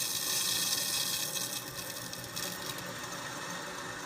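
Water rushes back through a whole house water filter system as the supply is turned on, a steady broadband hiss and gush that is strongest at first, then settles to a constant flow.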